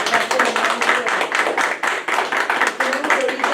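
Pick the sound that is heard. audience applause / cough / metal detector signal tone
audience applause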